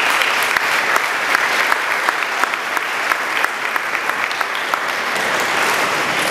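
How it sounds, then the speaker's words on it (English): An audience at an elementary school safe room ribbon cutting gives sustained applause, dense and steady clapping from many hands that continues throughout. "Let's give them a big round of applause."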